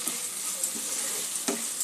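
Potatoes fry with spices in a pan, a soft steady sizzle with a few faint stirring scrapes, close and quiet with no voices.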